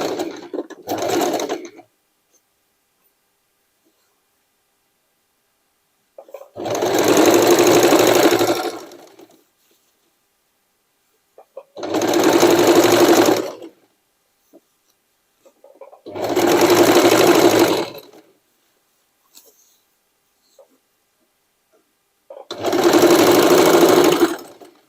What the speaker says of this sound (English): Triple zigzag on top of the other stitching.